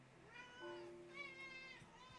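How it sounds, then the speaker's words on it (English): Pet cat meowing loudly indoors, two drawn-out tonal meows in quick succession, close and clear with no talk. "Kitty. Why are you being so loud?"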